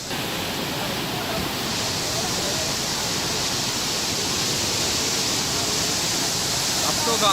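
Fast floodwater rushes over a culvert in Udaipur, a steady, loud, broadband roar without a break, carrying heavy debris along the torrent.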